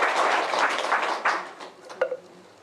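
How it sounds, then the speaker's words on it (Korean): Audience applause at a Buddhist temple sisterhood ceremony honoring two monks and two association presidents, a dense burst of clapping that thins and fades over a couple of seconds with a few scattered final claps. "두 분 스님과 두 분 회장님께 큰 박수를 좀."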